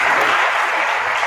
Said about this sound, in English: We give Sue a round of applause